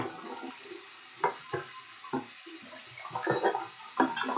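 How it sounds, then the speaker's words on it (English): A tool rinsed under running water at a sink, heard as a low steady flow broken by several short splashes and clinks from handling, close and fairly quiet, with no talk. "So I'm rinsing it out,"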